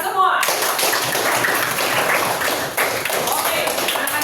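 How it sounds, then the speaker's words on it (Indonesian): Schoolchildren in a classroom break into a burst of dense, continuous applause that fills the whole clip, loud and close. "Tepuk tangan untuk kita semua."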